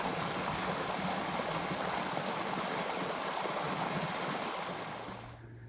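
A waterfall in the Apalachicola National Forest roars steadily, a dense broadband rush that holds constant before fading slightly at the end.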